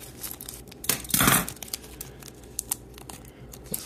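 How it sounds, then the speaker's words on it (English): Scissors slice open an Obsidian Flames Pokémon card booster pack, a single loud crinkling cut of foil wrapper near the mic, with light rustles and clicks around it. "we are going to go with the scissors."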